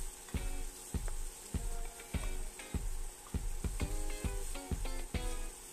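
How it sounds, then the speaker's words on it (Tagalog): Ginger, garlic and galangal sauté in hot oil for beef rendang, a constant loud sizzle broken by a regular rhythm of about a dozen scraping stir strokes, close up. "Gisa niyo lang yung mga ginger, garlic, galanga."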